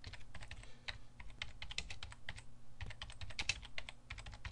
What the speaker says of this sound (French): on va pouvoir taper dans cette boîte le texte à afficher